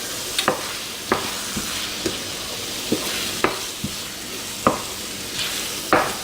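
Onions being stirred in a pan for a goats cheese onion tart, with a steady sizzle and a few distinct scraping strokes of the spoon at irregular intervals, close and moderately loud.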